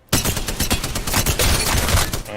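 Spitfire light machine gun from Apex Legends firing one sustained, rapid automatic burst, loud and close, with no talk over it.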